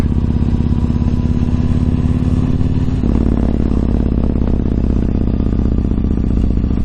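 Yamaha MT-01 motorcycle riding on a commute, a loud continuous engine drone that drops to a lower pitch partway through as the rider shifts, with road and wind rumble throughout.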